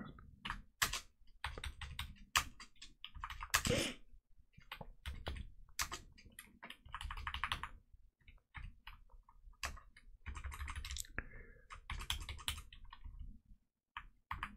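Keys tapped on a computer keyboard while loading a ZX Spectrum game on a MiSTer FPGA setup: close, crisp clicks and clacks in uneven clusters with short pauses between them, no speech.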